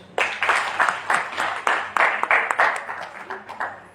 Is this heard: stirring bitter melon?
no